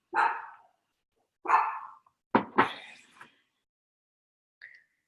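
Dogs barking nearby at home, several sharp separate barks spaced out with a quick double bark in the middle and a faint yip at the end, with no other sound between.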